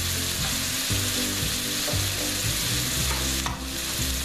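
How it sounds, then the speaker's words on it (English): Garlic and red onions sizzle and fry in a hot pan for sloppy joes, a steady close crackle with scraping and stirring clatter throughout. "And then we'll throw in our garlic."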